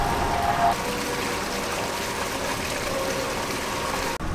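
Grey water from an RV holding tank drains through a dump hose at a dump station, making a steady, forceful rushing gush that holds constant throughout, with a brief thump near the end.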